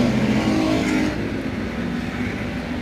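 Race cars battle for the lead at a racing event, engines roaring loudly and continuously as the pack passes, the pitch easing slightly partway through, with no voices over the noise.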